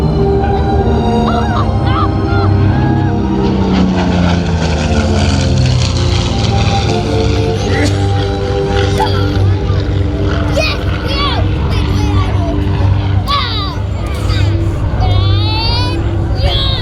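A Curtiss P-40 warbird flying past at the Warbirds Over Monroe air show, its engine droning loudly and changing pitch as it passes, over an announcer on loudspeakers and crowd chatter.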